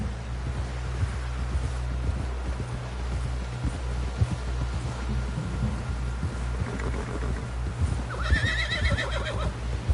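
In the video game Red Dead Redemption 2, a horse's hooves clip-clop steadily over a constant low rumble, and a clear high whinny rises near the end.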